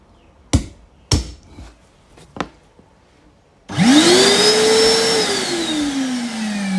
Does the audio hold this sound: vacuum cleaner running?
yes